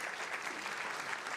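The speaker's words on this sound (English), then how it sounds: "We could just give them a round of applause coming out tonight." Audience applause at a community conversation hosted by New York City Mayor Eric Adams, a dense, steady wash of clapping from a crowd, sustained for a short burst with no pauses.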